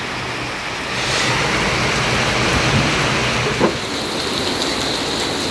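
Steady rain falling in a Bangladeshi village in Narayanganj, a dense even hiss that swells after the first second and continues without pause, with one brief knock partway through and no voices.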